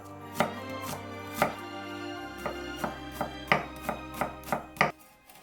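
A knife mincing onion, shallot and parsley for a poultry meat stuffing, heard as a dozen crisp, close chops on a board in a steady rhythm that quickens toward the end, with a low musical hum underneath.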